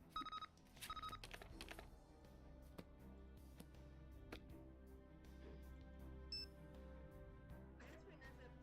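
Phone number keyed in during a Nancy Drew mystery game, a short burst of dialing tones at the start and another near the one-second mark, over a steady low game background hum.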